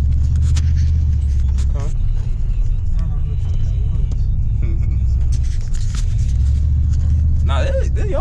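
A 2008 Pontiac Grand Prix GXP engine runs in a steady, low rumbling idle close by, a constant throaty drone under intermittent voices talking nearby.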